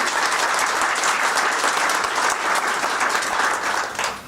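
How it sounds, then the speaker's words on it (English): Sustained applause from an audience at a December town hall gathering, dense and steady clapping with no break, fading only slightly at the very end. "Big round of applause, everybody."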